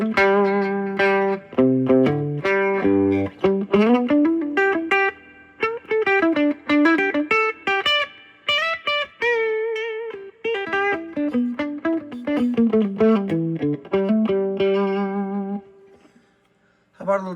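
Electric guitar through a Wilkinson M Series Tele bridge pickup with gain cranked for distortion, playing a loud riff of sustained chords and single notes with reverb tails, ringing out into near silence at the end.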